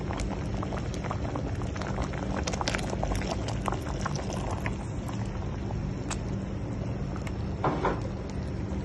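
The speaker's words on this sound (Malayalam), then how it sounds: "ഇനി ഇതിലേക്ക് ഒന്നാം പാൽ ഒഴിച്ചു കൊടുക്കാം" First coconut milk pours into a pot of bubbling broken-rice payasam, a continuous close simmering and liquid churn with scattered clicks and small splashes, no voices.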